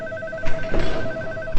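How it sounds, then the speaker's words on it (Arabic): A landline telephone rings in a home, its repeating electronic ring tone steady and fairly loud across the whole span with a brief clatter partway through. "هو مفيش حد هيرد على التليفون؟"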